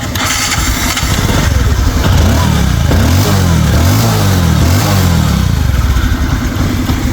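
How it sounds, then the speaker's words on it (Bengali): A second-hand Bajaj Discover 125 cc motorcycle starts up and is revved close by, producing a loud, steady chugging idle with repeated swells in engine pitch. "আগে বাইকটার সাউন্ডটা দেখাবো তারপরে আমরা প্রাইসটা বলে দিচ্ছি"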